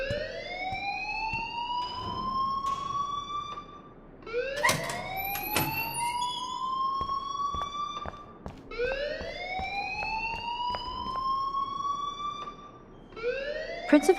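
A school alarm in Life Is Strange wails in repeated rising sweeps, each climbing then holding for a few seconds before starting again, loud and close with sharp clicks between cycles and no talking.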